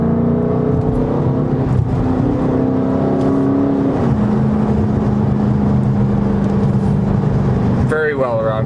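A Dodge Charger Scat Pack, a heavy car, driven around corners, its engine holding a steady, loud, close drone with a slight shift in pitch midway.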